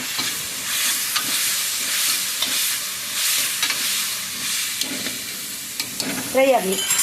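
Food fries in a pan while being stirred, a close crackling sizzle with repeated scraping and clinking of the spoon, ending in a few louder clanks.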